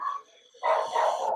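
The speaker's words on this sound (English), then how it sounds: "Sorry for my dogs barking in the background." Dogs bark in the background indoors, a brief yelp followed by a longer run of sharp, loud barking that fills most of the moment.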